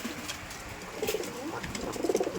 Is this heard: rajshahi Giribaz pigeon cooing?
yes